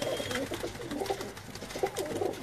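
Blue Chinese pigeons coo in soft, repeated rolling phrases nearby, with a faint background hum and no talking.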